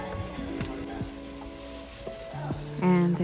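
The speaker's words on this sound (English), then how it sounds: "I'm just going to continue to mix that ground turkey" Ground turkey and onion fry in a pan with a little leftover fat, a soft steady sizzle under stirring, alongside tonal background sounds.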